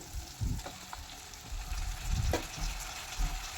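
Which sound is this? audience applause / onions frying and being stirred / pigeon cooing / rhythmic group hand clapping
onions frying and being stirred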